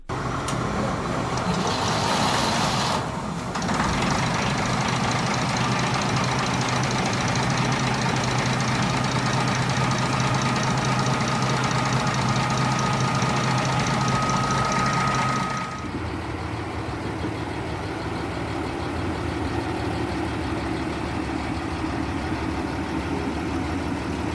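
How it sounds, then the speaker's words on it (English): Heljan BR 02 diesel hydraulic shunter model idling outside a goods shed, a steady close engine drone with a brief drop early on, then a quieter, lower running note after about sixteen seconds; no voices. "We then turn our attention to the little locomotive, waiting to be started up just outside the goods shed"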